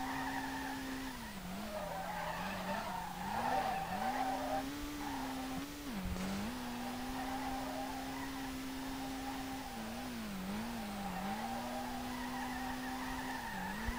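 A tuned R32 drift car in Street Legal Racing Redline, its engine worn and slipping third gear, slides through long drifts with sustained tire squeal over a droning, wavering engine note, loud and continuous throughout.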